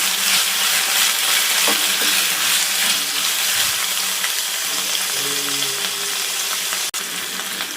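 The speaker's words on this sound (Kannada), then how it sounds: "ಈರುಳ್ಳಿ ಫ್ರೈ ಆಗಿದೆ" Sliced onions frying in a pan for radish sambar, a constant dense sizzle throughout with occasional stirring scrapes and a sharp click near the end.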